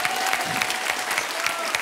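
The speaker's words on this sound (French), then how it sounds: "On l'applaudit, on l'applaudit." Studio audience applause at a French television game show, a steady dense wash of clapping that holds evenly throughout with no voices over it.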